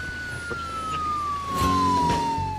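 Police car siren in the video game Wheelman, a steady wail gliding slowly downward over engine rumble, with a few crunching impacts toward the end.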